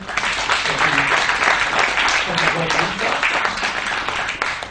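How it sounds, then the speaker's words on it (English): Sustained round of applause from an audience at an English-language panel event on the benefits of interfaith dialogue, dense and steady throughout, with faint voices murmuring underneath. "Can we give a round of applause to our speakers again?"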